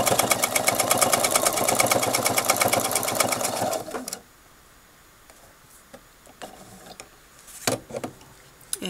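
A sewing machine stitches a quarter-inch echo quilting line, running in a steady loud whir for about four seconds, then stopping, followed by faint handling clicks and fabric movement.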